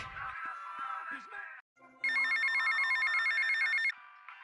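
A payphone rings in the video game GTA Vice City: a steady electronic ring holds for about two seconds after a stretch of other game sound.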